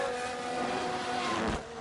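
A struggling race car engine at the Sao Paulo track in the F1 Manager 22 game drones in a steady, moderately loud buzz that dips briefly near the end.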